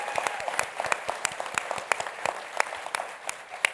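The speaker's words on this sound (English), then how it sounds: "can we just get a huge round of applause in here for Jeff Ballou?" Applause from a fairly small audience at an evening event, a round of distinct individual claps with some sharp, close hand strikes standing out over a lighter spread of clapping.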